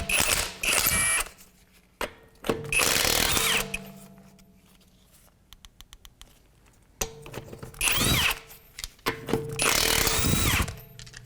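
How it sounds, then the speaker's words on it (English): Lug nuts coming off a front wheel of a 2008 Acura MDX with a 22mm socket on a power tool, loud bursts of whirring, rattling impact-tool noise separated by quieter gaps with light clicks and clanks. "we're going to take our wheel off and use a 22mm socket."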